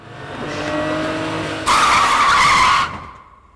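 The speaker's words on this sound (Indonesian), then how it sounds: "tiba-tiba mobil ketua Lee melaju kencang ke arah ketua Jung dan hendak menabraknya" A car speeds toward someone, engine swelling for over a second before a sharp, loud screech of skidding tires that holds briefly and then stops, leaving a faint tail.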